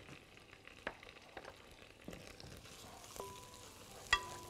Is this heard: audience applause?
no